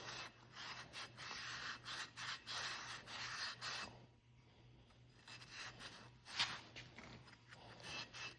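Scotch-Brite scrubs rust from the front brake of a Yamaha Blaster 200: faint, close rubbing strokes come in a quick back-and-forth rhythm, pausing briefly near the middle before resuming, with no voices.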